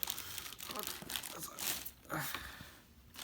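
Plastic bag crinkling while a pair of Gucci Ace dragon-print sneakers is unboxed, with soft rustles and crinkles coming in short bursts close to the microphone.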